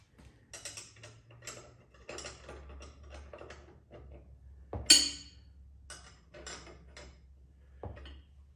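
A wrench works on an ATV tire mounted in a BeadBuster bead breaker, giving quiet, intermittent metallic clicking and ratcheting, with one sharper clank partway through, all without talk.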